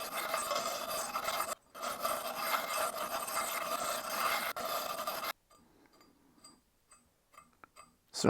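An axe edge is sharpened by hand on an abrasive in a clamp-style sharpener, a steady close rasping scrape in long strokes with a brief pause, then faint scattered ticks and handling.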